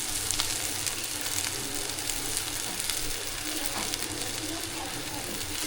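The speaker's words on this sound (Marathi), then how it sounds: "तर आता आपण आहे ना याच्यात पोहे टाकूया." Flattened rice (poha) is tipped into a pan of onion tempering for kande pohe, giving a continuous close sizzle with light stirring crackles, while voices murmur faintly in the background.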